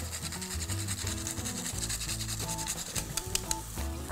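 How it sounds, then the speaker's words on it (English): Nutmeg rubbed against a grater, a steady rasping scrape over a continuous background of cooking and music-like tonal sounds. "And to season it, a little grating of nutmeg."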